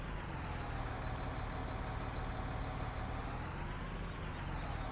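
A tractor engine idles in Farming Simulator 19, a steady low diesel rumble holding even and close throughout, with a faint whining tone drifting slightly above it and no voices.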